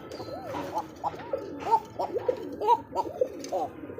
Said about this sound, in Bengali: একটা অনেক বড় সাইজের একটা কবুতর দেখতে পাচ্ছেন ককা হ্যাঁ আর এটার যে ডাক